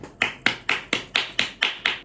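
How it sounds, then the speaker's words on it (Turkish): A woman claps her own hands eight times at a steady, even pace, each clap sharp and close, with no talking. "Kendimi alkışlamak istiyorum."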